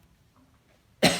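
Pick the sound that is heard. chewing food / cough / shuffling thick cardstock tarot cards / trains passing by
cough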